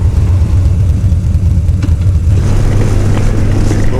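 A Hemi V8 car passes close by, a loud low engine rumble that swells and holds over surrounding road noise.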